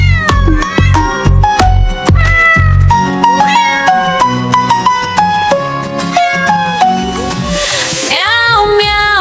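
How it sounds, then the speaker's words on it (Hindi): Repeated cat meows ring out over a bright, bouncy children's rhyme melody, loud and upfront, with a short noisy flourish near the end. "बिल्ली करती म्याऊ"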